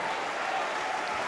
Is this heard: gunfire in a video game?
no